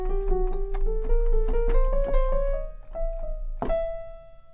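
Piano notes climb a repeated symmetric scale pattern in steady even steps, each note distinct and ringing, ending on a louder sustained note; played alone and close.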